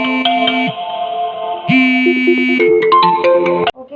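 A phone ringtone plays loudly and alone, a bright melodic electronic tune of sustained and stepping tones that cuts off abruptly near the end, signalling an incoming call.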